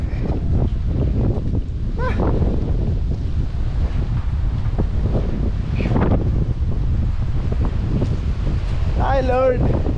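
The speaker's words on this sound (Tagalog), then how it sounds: "Ang lakas ng habagat." A strong southwest monsoon (habagat) wind buffets the microphone in a constant, loud roar, with brief faint voices surfacing a couple of times beneath the gusts.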